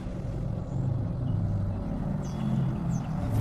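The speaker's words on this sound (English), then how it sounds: "The flat-bottom push boat eases the barge into its resting spot." A low, steady engine rumble drones throughout at moderate loudness, a flat-bottom push boat slowly easing a barge into place, with no talking.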